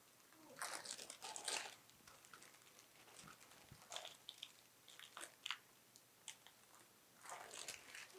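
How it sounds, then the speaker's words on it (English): Wax paper crinkles and crackles in short bursts while a cheese-filled meatloaf is rolled up by hand, close and fairly quiet, with pauses between the crumpling handling noises and no talking. "Use the wax paper to help roll it."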